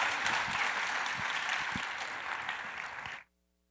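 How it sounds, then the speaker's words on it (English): Brief burst of audience applause after a conference panel on XR in enterprise, a dense patter of many clapping hands heard from within the room that fades slightly and then cuts off abruptly. "A quick round of applause would be great."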